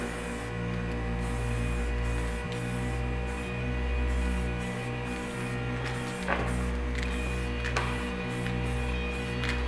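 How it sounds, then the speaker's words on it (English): A spray paint can sprays red paint on a hoverboard from about eight inches away, giving a steady, continuous hiss over a constant low mechanical hum for nearly ten seconds. "then we're gonna just spray about 8 inches away"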